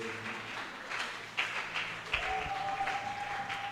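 A worship congregation claps and cheers in praise of God. The steady crowd applause is broad and sustained, with a faint held musical tone rising beneath it partway through.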